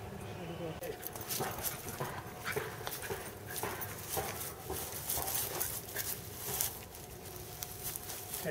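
A dog moving around a yard in 2010, its paws pattering and scuffling in quick, uneven bursts at moderate distance, with voices in the background.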